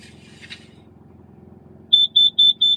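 Carbon monoxide alarm running its test, giving four loud, evenly spaced high-pitched beeps after a stretch of low background hum.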